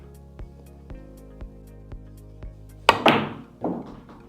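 A pool shot is struck hard: a loud crack of cue ball on object ball, followed by a rattling thud as the ball drops into the pocket. Faint regular ticks precede it, and nobody speaks.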